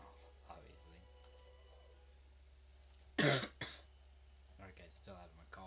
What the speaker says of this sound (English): Still having my cough.